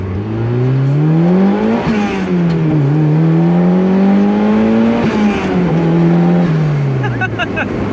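A turbocharged Mazda Miata with a ported setup and a different turbine revs hard on a dyno at low boost. The loud engine climbs, dips and climbs again, with the turbo spooling quickly.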